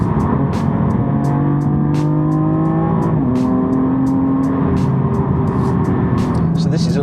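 BMW M140i hatchback accelerating hard, its engine note climbing steadily in pitch, dropping briefly at a gear change, then rising again; loud and close, as heard from inside the car.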